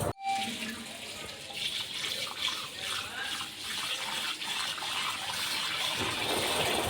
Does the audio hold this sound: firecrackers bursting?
no